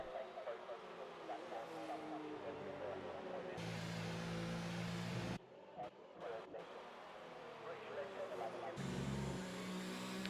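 Racing car engines rev and roar past during a British Grand Prix safety car period, one loud pass after another with brief drops in between. Commentators talk over the noise.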